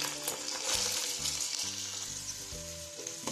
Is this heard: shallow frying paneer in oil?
yes